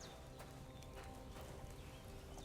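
Horse hooves clip-clop in the video game Kingdom Come: Deliverance, a quick, even run of soft knocks against a dense, steady background, faint and fairly distant.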